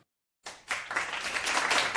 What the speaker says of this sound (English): There's the round of applause.